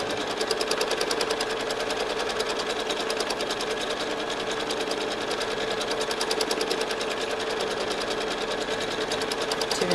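A sewing machine quilting fabric stitches at a fast, even needle rhythm, close and steady for the whole stretch with no pauses or voices.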